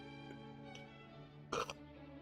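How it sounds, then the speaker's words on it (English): A person burps while trying to clear mucus from the throat, giving a short, loud throaty eructation over a low steady hum, with no talking. "I was burping and trying to get mucus out at the same time"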